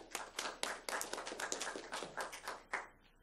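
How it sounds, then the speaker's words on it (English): Audience applause during a ceremonial speech honouring a fire battalion: a dense run of many hands clapping, steady and moderately distant, tapering near the end. "Let's give an applause for Battalion 1."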